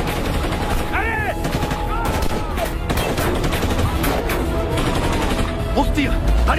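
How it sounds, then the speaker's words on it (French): Machine gun fire in a French action film battle scene, sustained rapid bursts of gunfire with dense crackling shots over a noisy background, with shouted voices briefly in the mix. "Ils nous tirent dessus à la mitrailleuse."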